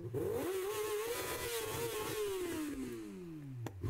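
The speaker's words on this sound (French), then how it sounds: "il a peur de tomber avec sa moto" A motorcycle engine revs hard up the range, then drops in pitch as the bike passes through the air overhead, loud and close with no talk.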